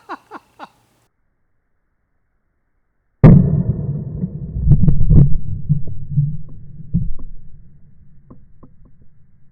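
A Beretta 92FS pistol firing +P rounds: one loud, sharp shot rings out partway through, followed by ringing echo and a few more clanks and impacts.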